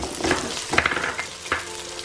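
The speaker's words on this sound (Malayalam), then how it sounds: "അതിലേക്ക് ഇഞ്ചി വെളുത്തുള്ളി പേസ്റ്റും കൂടെ ആഡ് ചെയ്ത് കൊടുക്കുക." Ginger garlic paste and coconut pieces sauté in a pan for a Travancore-style fried coconut chicken curry, a brief close sizzle with a few quick scraping stirs.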